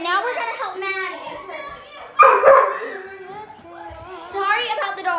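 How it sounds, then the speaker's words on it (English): A dog barks in short bursts in the background while children chatter and play nearby, with one louder bark cluster standing out midway over the talk. "The dog will not shut up."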